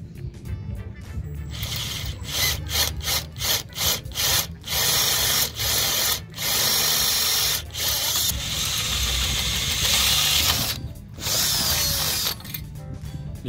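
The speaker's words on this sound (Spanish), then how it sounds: "Ahora vamos a hacerlo con la broca más grande." A power drill fitted with a larger 5/16 bit bores holes to mount auxiliary lamps on a Rocketman 250 motorcycle. The close, loud whine comes in repeated pulsed bursts and then longer sustained runs, with brief gaps between them.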